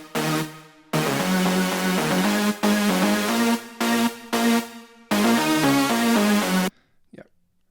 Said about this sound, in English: So when I play all the lead sounds together